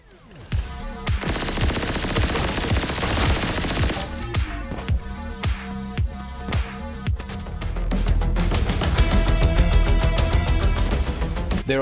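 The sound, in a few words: guns firing in the video game Turbo Overkill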